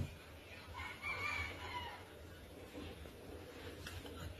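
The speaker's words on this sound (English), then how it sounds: "See, if it wasn't for that goddamn chicken," Rooster crowing mixed with scattered clucks from chickens, heard faintly at a distance over a low rumbling background with a sharp knock at the very end.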